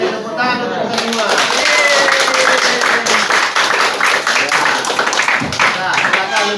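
Schoolroom class applauding together, loud dense clapping close by that fills the whole stretch, with children's voices mixed in underneath.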